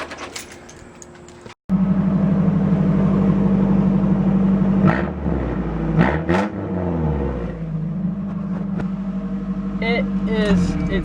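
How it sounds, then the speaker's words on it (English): Nissan Hardbody with a naturally aspirated four-cylinder and its muffler cut off, loud and close: a raspy idle, then two sharp revs rising and falling, then a steady idle and a final quick blip. "We actually put an exhaust on the Hardbody. All we did was cut off this junky muffler right here"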